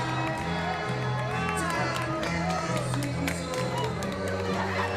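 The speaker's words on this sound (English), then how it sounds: "the crowd behind us is making all kinds of noise as they are up here in full force rooting on this team" Crowd noise at a high school boys' basketball game between Harlingen and Harlingen South fills the gym with continuous cheering and scattered claps, steady and moderately loud behind a constant hum.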